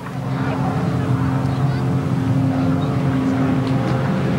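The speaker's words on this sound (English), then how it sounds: "The revs rise, see the smoke in the back of machines, the tapes are gone and are on the way." Grasstrack racing motorcycles surge away from the start in a loud, sustained roar of several engines together, rising steadily and filling the whole stretch.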